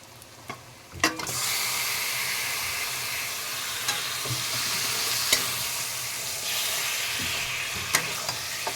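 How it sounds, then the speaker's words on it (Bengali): Marinated chicken with lemon, ginger-garlic paste, salt and mustard oil hits a hot pan with a sudden loud sizzle, then fries steadily under intermittent clanks and scrapes of stirring, close and unaccompanied by speech. "মেখে রাখা চিকেনটা দিয়ে দেব।"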